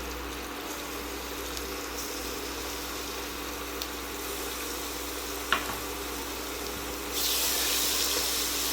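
Ginger paste and masala frying in a pan, a steady low sizzle heard close, with a few faint clicks and a louder hiss rising near the end.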